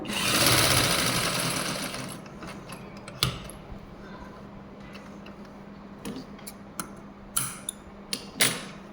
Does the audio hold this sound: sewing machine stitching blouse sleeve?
yes